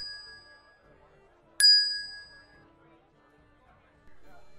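A single clear bell ding rings out sharply mid-clip and decays with a ringing tail, with faint softer tones before and after and a voice present around it.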